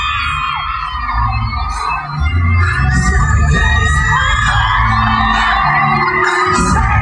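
A huge crowd at a concert at Lollapalooza Paris screams and cheers, the roar swelling louder partway through under a nearby voice.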